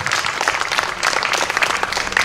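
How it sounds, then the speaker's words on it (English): Audience applause for Debbie Ann at Alburtis Park, a dense, steady wash of many hands clapping that stays loud and even throughout with no voices over it. "how about a nice round of applause for my daughter, Debbie Ann, going to help me sing today"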